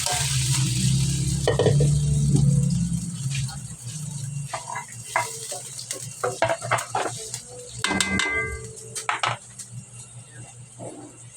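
Boiled banana blossom is sautéed in a pan, with a steady sizzle and loud early frying hiss, then a spatula scraping and clinking against the pan while someone talks.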